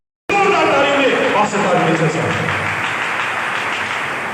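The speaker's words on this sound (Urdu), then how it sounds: "آپ کی زوردار تالیوں میں" Loud applause from a church congregation erupts suddenly and stays dense and even, with faint crowd murmur mixed in beneath the clapping.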